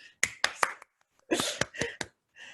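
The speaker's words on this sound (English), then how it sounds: "So I'm going to applaud, and I'll assume you're all applauding with me here." A presenter applauds alone on a video call: a few sharp, close hand claps in quick succession, then a pause and another short burst of clapping, with no talking.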